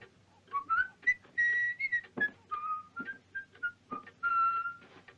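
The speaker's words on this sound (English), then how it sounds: "Why, you whistling, kid." Someone whistles a short, wandering melody of clear, fairly soft notes and quick slides, alone against a quiet background with faint low rumble.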